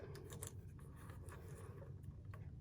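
Small piece of card stock or specialty paper being cut, with soft, quiet snipping and scraping strokes that run steadily through the short stretch at close range.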